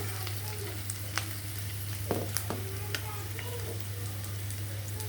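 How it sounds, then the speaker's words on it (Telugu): Onions frying in a pan for potato kurma, a steady close sizzle with scattered small pops and a couple of light utensil clicks, over a constant low electrical hum. "ఆనియన్స్ బాగా వేగేదండి ఇందులో"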